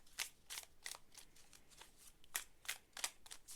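Tarot cards are shuffled by hand in quick, quiet bursts, each a crisp riffling flutter close to the ear, repeating irregularly about ten times with soft pauses between.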